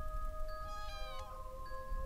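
A cat meows once, brief and fairly faint, over a steady electronic tone and low background hum, with no talking.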